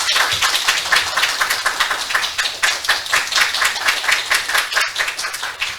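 Steady clapping from the gathered staff of Seoul St. Mary's Hospital at the inauguration ceremony for the new hospital director, during a bouquet presentation; crisp, fairly even handclaps fill the room for about six seconds without a break.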